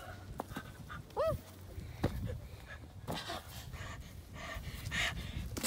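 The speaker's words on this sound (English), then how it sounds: "I found your dog." A dog pants in quick, breathy bursts close by, with a brief high chirping squeak and faint rustles and shuffling around it.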